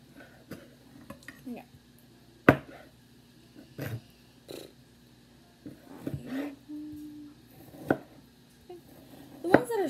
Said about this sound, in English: Still slightly frozen or a little easier to cut, but they won't cook as well.